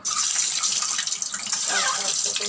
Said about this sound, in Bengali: আমি এখন ডিমটা দিয়ে দিচ্ছি